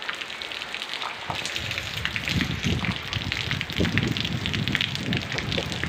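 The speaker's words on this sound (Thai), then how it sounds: "ก็ชมบรรยากาศฝนตกนะครับผม" Steady rain falls in Bua Chet district, Surin, Thailand, a dense continuous hiss of drops pattering on surfaces, close and fairly loud throughout.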